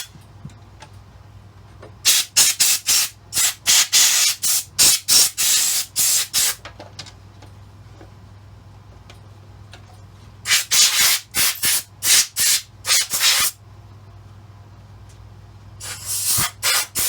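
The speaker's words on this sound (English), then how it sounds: "Go ahead and turn my air compressor on for a second. So I'm going to give these things a quick blowout right here." An air compressor's blow nozzle fires repeated short, loud hissing blasts to clean out rusty parts, coming in two rapid clusters separated by quiet pauses, with a third burst starting at the end.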